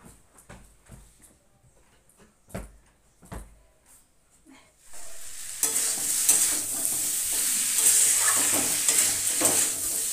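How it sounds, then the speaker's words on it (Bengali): Curry cooks in a pan: a few scattered knocks and clicks come first, then partway through a loud, steady sizzle of frying sets in and continues to the end. "তো তরকারিটা বানাচ্ছি"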